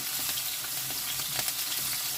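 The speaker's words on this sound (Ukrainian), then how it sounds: "Грибочки вже почали обсмажуватись" Mushrooms and potatoes frying together in a pan for a stew, giving a close, steady sizzle and crackle that runs unbroken with no voices.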